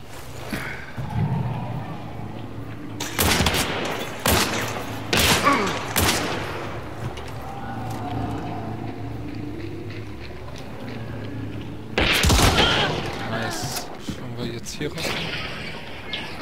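Several loud bursts of gunfire in the video game Hunt: Showdown, a cluster around the three-to-six second mark and another near twelve seconds, over a steady low background hum.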